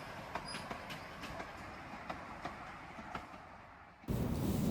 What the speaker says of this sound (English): Got the odd cane train going past